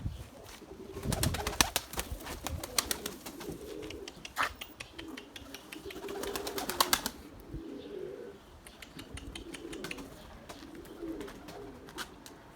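A pigeon coos softly in a windy garden, low repeated calls coming in short rounds, mixed with bursts of wing flapping and scratchy rustling nearby.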